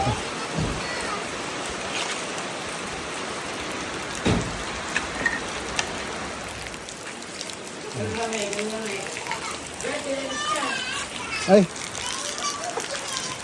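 Steady rain pours and patters on surfaces nearby while a child plays out in it, with a voice and an adult talking over the constant hiss of falling water.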